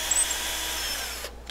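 A power drill with a screwdriver bit drives a long wood screw into an acrylic stained-glass globe, giving a steady, close whir that cuts off abruptly near the end, with no talk.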